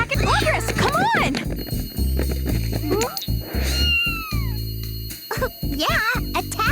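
A cartoon cat lets out several loud, wavering meows and yowls in quick succession, with spoken dialogue and other effects mixed in around the cries.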